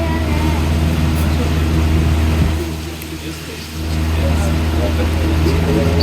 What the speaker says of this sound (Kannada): ಸೊ ಈಗ ಬೋಟ್ ಸಫಾರಿ ಸ್ಟಾರ್ಟ್ ಆಗಿದೆ.